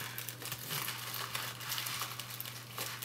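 Crinkling and rustling of an off-white organza pouch with rhinestones, tightly tied, being worked open by hand, a steady close soft crackle with no talk.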